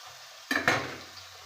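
Chicken pieces stirred into masala in a pan: two quick scraping, clattering strokes in close succession over a faint background hum, then quiet.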